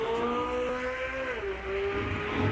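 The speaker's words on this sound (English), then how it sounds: "I can't hear the Silverado over Dore's loud Mustang" Loud Ford Mustang with a Coyote engine drag racing a Chevrolet Silverado at a Southeast street racing event, its steady high engine drone holding pitch then dropping slightly as it pulls away, dominating throughout.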